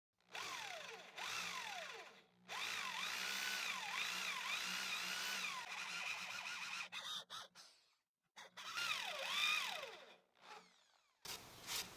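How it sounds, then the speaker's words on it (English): A hand drill with a 35mm Forstner bit whines and bites into wood in long bursts, pitch sweeping up and down with squeaks, pausing briefly between runs. "I'll use the hand drill with a 35mm Forstner bit to drill the holes at the marked points"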